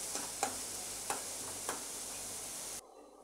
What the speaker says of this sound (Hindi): प्याज को थोड़ा भूनेंगे